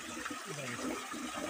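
Water rushes steadily at Ginlologayan falls in Barangay Kabarasan Gamay, Northern Samar, a constant broadband wash with a faint voice murmuring beneath it.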